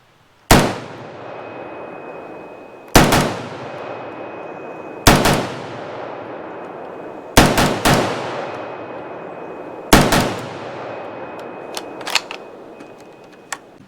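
MKE AP53 pistol, an HK53-style short rifle-caliber gun, firing Phoenix 55 brass ammunition: five loud sharp shots spaced a couple of seconds apart, some as quick doubles, each with a ringing decay and faint clinks after.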